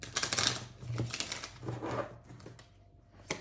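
Cards shuffled by hand for a tarot reading, a quick run of close, crisp riffling flutters and taps that thin out toward the end.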